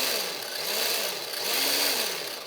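The electric motor of an HG-P407 RC truck, a Tamiya clone, whines up and down in pitch as the throttle is worked. It gives about three rising and falling revs, close up with no talking.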